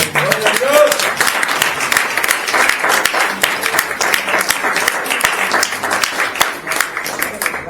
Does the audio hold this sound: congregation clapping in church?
yes